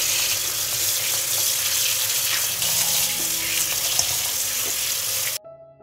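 Fresh plums are rinsed under a running kitchen tap, a steady close hiss of gushing water that cuts off abruptly near the end, leaving faint handling clinks.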